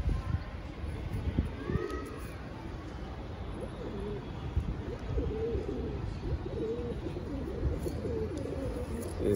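Saharanpuri pigeons coo in soft, low, repeated throaty calls that overlap close by, with some faint background noise.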